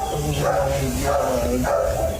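Dogs of many breeds and ages on a 4-kilometre rescue charity walk along Vancouver's Spanish Banks, with barks and yips breaking out over a busy crowd and talk across the whole stretch.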